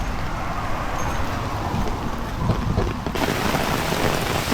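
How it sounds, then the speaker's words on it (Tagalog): Heavy rain pours down steadily near a bus stop in Bukit Batok, a dense, continuous roar of water hitting surfaces with no let-up and no voices over it. "Ulan. Kusog."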